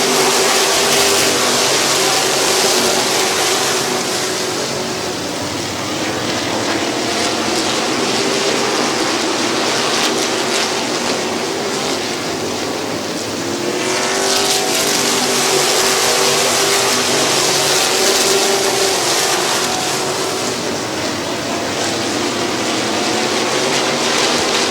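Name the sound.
race cars driving at Midvale Speedway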